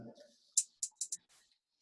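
A computer mouse clicks out a drum beat: four quick, crisp clicks in close succession after a brief murmur of voice, then quiet.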